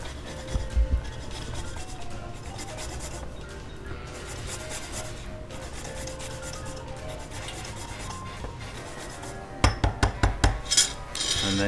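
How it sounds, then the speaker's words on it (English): A rasp grater taking the zest off a lime, heard as close, continuous scraping and rubbing, ending in a few sharper taps near the end. "I'm just going to grate up, take the zest off one lime."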